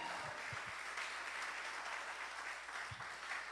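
Dense, even clapping from a church congregation praising Jesus, a steady wash of many hands heard from a moderate distance with a few low thumps underneath.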